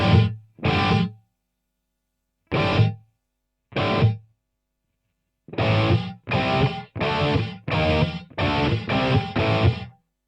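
Distorted electric guitar run through a gated reverb: short choked chords that cut off abruptly, first a few isolated hits with silences between, then a rapid run of close, loud, clipped bursts.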